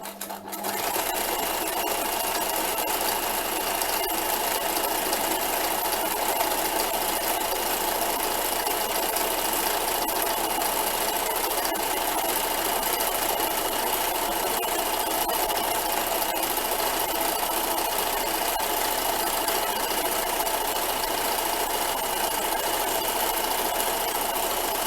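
Sewing machine running a steady satin stitch on fabric wipes, a close, continuous buzzing hum that holds unbroken for about 25 seconds after a brief start, with no talk.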